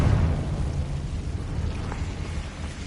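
Confringo fire spell exploding in the game Hogwarts Legacy: a booming blast that opens loud, then a rumbling, crackling tail fading slowly over a few seconds.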